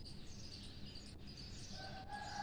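Two baby peafowl chicks, white-eyed females, give faint high chirps, with a few thin tweets standing out near the end over steady background noise.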